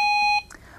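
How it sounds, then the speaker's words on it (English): An AliMed IQ Duo Plus patient alarm, triggered when a pull cord releases as a patient rises from a chair, sounds a loud steady electronic tone that cuts off briefly and then resumes, with no talking. "When the patient rises from their chair, the pull cord releases, triggering the alarm."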